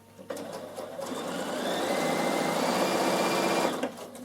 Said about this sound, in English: So the first thing I'm going to do is stay stitch a little area here,